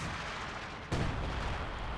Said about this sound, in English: We have some artillery coming down at this position.